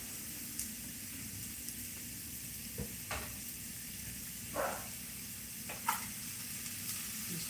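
Sausage fries in a pan with onions and serrano as its fat renders, giving a faint, steady sizzle broken by a few soft stirring clicks. No one speaks.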